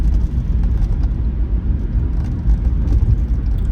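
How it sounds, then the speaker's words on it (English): A car drives along a snowy, deeply foggy road, a loud close low rumble of engine and tire noise that stays steady across the moment without any talking. "So look at that car."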